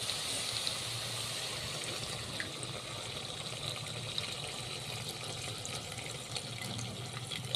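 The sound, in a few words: water poured into the pan of vegetable curry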